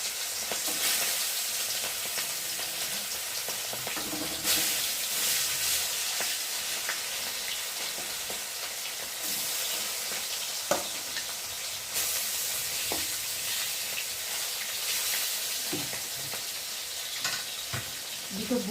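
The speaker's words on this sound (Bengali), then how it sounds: "আর এখন আমি একে একে মাছগুলো দিয়ে ভেজে নেব।" Tengra fish, spiced with ginger paste, frying in hot oil produce a loud, steady sizzle that swells in bright bursts as pieces are added or turned, with occasional clinks of a utensil.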